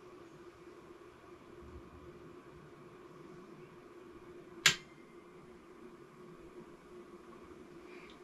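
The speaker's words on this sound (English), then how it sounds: "You'll probably hear the relay click." A single sharp relay click from a MidNite Solar Rosie inverter as it connects to the grid, a brief snap over a quiet background hum.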